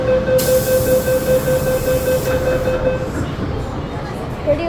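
Hong Kong MTR Island line train doors closing: a steady warning tone sounds and then cuts off as the doors shut, over a continuous low rumble of the train carriage.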